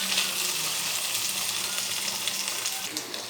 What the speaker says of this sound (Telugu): అలానే బంగాళదుంప ముక్కలు, వీటన్నిటిని ఒకసారి ఫ్రై చేసేయండి.